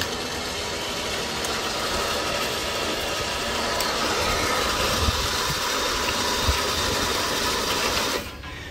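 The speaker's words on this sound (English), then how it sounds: "We've got this line hooked up to a pallet of sandbags. We're going to go ahead and winch in." A Power Plus electric winch draws in its line hooked to a pallet of sandbags, a loud, steady motor whine droning without a break for about eight seconds before it cuts off abruptly.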